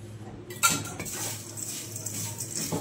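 Spoon clinking and scraping in a bowl while mixing udid papad chutney with oil, giving a steady close clatter of metal on dish with one sharper knock early on, and no talk.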